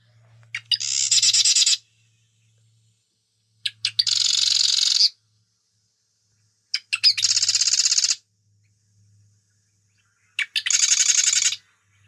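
A loud bird call in four separate bursts, each a quick rattle of many notes lasting about a second, with pauses of silence between them.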